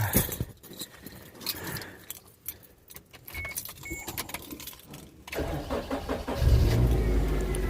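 A 2003 Holden Cruze AWD with a newly fitted alternator: keys jangle, the starter cranks, and the engine catches and settles into a steady idle, heard up close.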